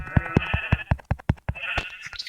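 Sheep in the Minecraft video game bleat loudly and repeatedly, about eight short, nasal cries in quick succession close up, with no voices over them.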